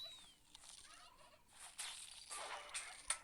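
Rapid turkey gobbling bursts from Plants vs. Zombies 2, the Turkey-pult, several warbling calls rising in loudness, with light electronic chirps mixed in.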